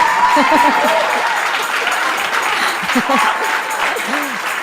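Clapping from a church congregation fills the room in a continuous even wash, with scattered voices and brief vocal sounds rising over it.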